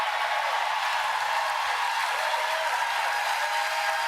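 A crowd at a political rally applauds and cheers in a steady, even wash of clapping that holds at the same loudness throughout, with no single voice standing out.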